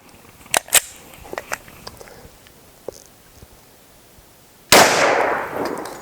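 A single 10mm Underwood 135-grain pistol shot fired at a range from a Model 40 pistol with its factory barrel, a loud sharp crack and decaying blast near the end, preceded by scattered faint clicks and distant pops.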